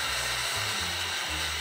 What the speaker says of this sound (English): I wouldn't put a blow dryer on it.